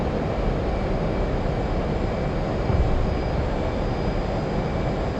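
An F/A-18C jet in the DCS flight simulator roars on takeoff with afterburners lit, a steady, loud, dense engine rush that holds unbroken throughout with no talk.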